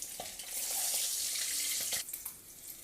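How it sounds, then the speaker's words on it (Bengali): Steady hissing sizzle of eggs frying in hot oil, close by, with a couple of brief clinks near the start and end; no voices. "ডিমগুলো ভাজা হয়ে গেছে"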